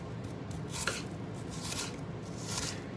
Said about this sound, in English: I'm gonna cut up a few onions in this corn.